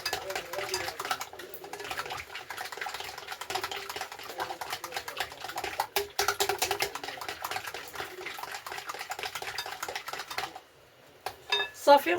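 Eggs and cream being mixed in a bowl, a rapid, steady clatter of utensil against the dish that runs continuously, fairly close, then briefly stops near the end.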